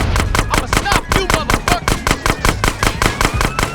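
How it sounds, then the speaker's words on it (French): Automatic gunfire in GTA San Andreas as loud, steady rapid bursts of shots rattling without a break, with brief whistling game sounds mixed in amid the chaos of a shootout with police and gangs. "Il y a tout qui pète, les flics, les... On sait plus sur qui on tire"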